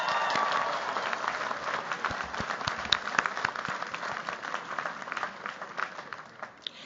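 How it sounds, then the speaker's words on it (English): Applause at the UVA Law 2026 commencement for award winners, a large audience clapping steadily with scattered sharper claps, gradually thinning out. "Let's give them one more round of applause"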